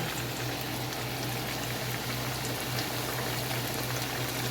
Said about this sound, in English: See it start to fry as soon as I put it in there? That grease is hot and ready to go.